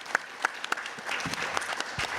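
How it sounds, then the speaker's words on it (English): Audience applause for two panelists at a museum talk on sound and space, starting as a few sharp separate claps and building into a steady, moderately close round of clapping. "can we give a nice round of applause to both of these panelists?"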